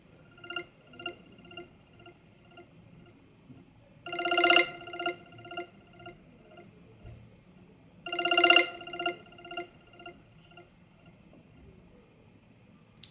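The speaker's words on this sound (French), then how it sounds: "Prochaine sonnerie qui s'appelle Tilt." A phone ringtone called Tilt plays quietly: a repeating pattern of short, bright electronic beeps, punctuated twice by louder, dense buzzing bursts, with faint background noise between.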